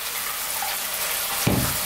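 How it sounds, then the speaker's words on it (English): A small splash of water poured into a pan of lamb curry, a brief wet hiss and gush near the end over a soft background cooking hiss. "Going to add a little splash of water now."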